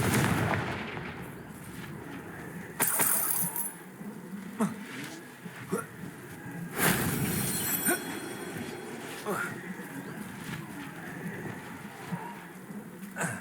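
Spell explosions from the Confringo blasting spell in the video game Hogwarts Legacy, several heavy booming bursts at irregular intervals over a rumbling, rain-like combat background, loud and close.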